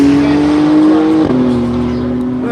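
A Lingenfelter-tuned hybrid race car at a track event drives past close by, with a loud sustained engine tone that drops in pitch partway through as it goes by.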